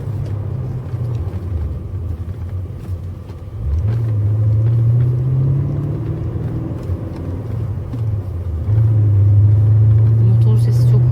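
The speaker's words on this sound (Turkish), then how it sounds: "Motor sesi çok iyi ya." A BMW M5 engine hums and rumbles steadily from inside the cabin, rising in pitch as it accelerates and shifts, with a continuous drone throughout.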